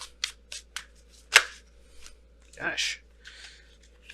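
Tarot cards are shuffled in several quick, crisp riffling bursts, the loudest near the middle, with a brief spoken exclamation between them.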